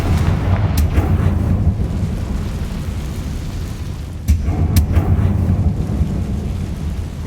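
Confringo blasting spells in Hogwarts Legacy go off as heavy booming explosions, a loud rumbling blast near the start and a second sharp burst midway, over a continuous low roar.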